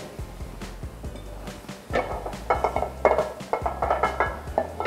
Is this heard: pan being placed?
yes